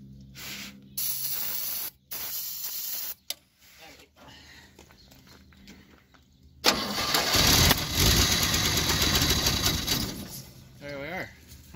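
The starter of a 1957 Chevy 210 cranks the engine on its first start attempt, first in short grinding bursts, then in a long, loud, sustained crank. Voices speak over parts of it.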